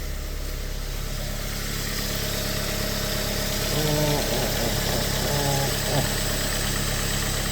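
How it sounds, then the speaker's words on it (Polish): A steady Mazda MX-5 NC engine idles at close range with a constant low hum and rattle, a brief voice murmuring over it around the middle. "Samochód jak słychać mam już odpalony"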